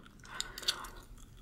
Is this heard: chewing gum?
yes